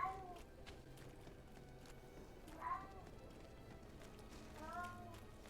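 A cat meows in the fantasy role-playing game GreedFall, three short rising-falling cries spaced a couple of seconds apart over quiet ambient background and faint footsteps.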